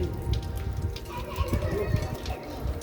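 Water runs and splashes from the taps of an old Ottoman palace fountain at İshak Paşa Palace, a close, steady patter of falling drops under a man's quiet speech.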